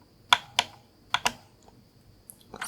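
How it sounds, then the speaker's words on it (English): Keys on a Razer mechanical keyboard are struck in a sparse, uneven run of sharp, close clicks, roughly five or six distinct presses with short pauses between them. "let's have some typing"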